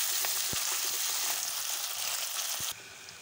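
Onions frying in oil in a pan for a jackfruit curry, producing a continuous bright sizzle with occasional spatula knocks, then the sound drops lower and quieter toward the end.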